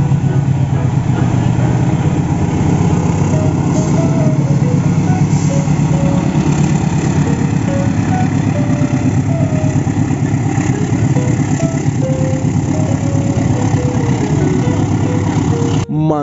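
A Rail King toy CC206 twin-cab locomotive runs steadily with a constant motor drone and rattling hum throughout, close and fairly loud, with a brief clatter at the very end; a voice talks intermittently over it.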